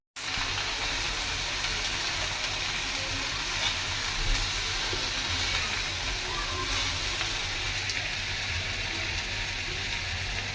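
Vegetables with soybean and potato are tempered in hot oil, giving a loud, steady sizzle and crackle that carries on unbroken from start to finish, close to the pan.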